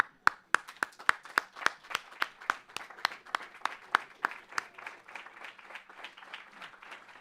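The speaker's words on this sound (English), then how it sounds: "why don't we all just stand up for a second and give them a standing ovation" A small audience at a healthcare conference gives a standing ovation, with sharp distinct claps at first that blend into a light, thinning patter of scattered hands.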